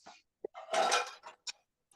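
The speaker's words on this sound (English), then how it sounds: "So we need to get a pan hot," Metal pots and frying pans clatter and clink on a kitchen counter during a cooking class, a cluster of short close knocks and one longer scraping clash, with no talk.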